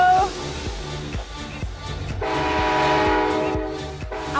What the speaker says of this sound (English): You want to blow the horn?